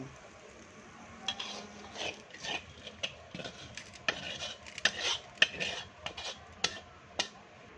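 Quail being dry-roasted in a pan over a charcoal stove, with scattered scraping and clinking strokes of a utensil against the pan at an irregular rhythm over a faint background hiss, close by.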